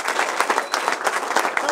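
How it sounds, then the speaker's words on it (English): A crowd applauding steadily, dense overlapping claps at fairly close range, with a few cheers mixed in, continuing throughout. "a big round of applause"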